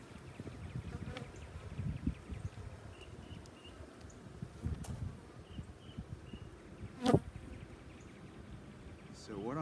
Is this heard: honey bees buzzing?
yes